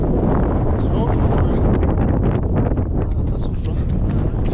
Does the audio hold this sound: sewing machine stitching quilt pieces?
no